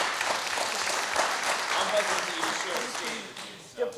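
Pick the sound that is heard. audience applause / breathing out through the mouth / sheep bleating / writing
audience applause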